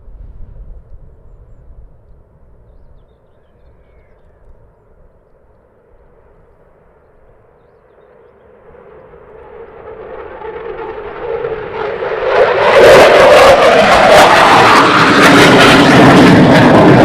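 A military aircraft departing from RAF Lakenheath, starting as a faint distant engine drone and swelling into a loud, broad jet roar as it passes close and climbs, no speech.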